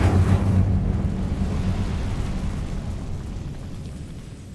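An Incendio fire spell cast in Hogwarts Legacy, a loud roaring whoosh of flame that bursts at once and then slowly dies away into a low rumble.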